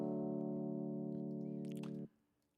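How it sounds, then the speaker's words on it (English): A major triad chord is struck once on keys, sustaining steadily for about two seconds before it is cut off, loud and alone with no talking. "So the most basic chord is going to be a major triad."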